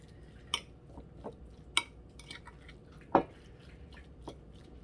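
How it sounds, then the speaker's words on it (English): Ingredients for breakfast sausage being stirred together in a bowl, with a few faint, scattered clicks and soft squishes from the utensil against the bowl, quiet and irregular. "So let's just stir all this up."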